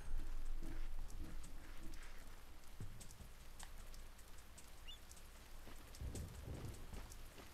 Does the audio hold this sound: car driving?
no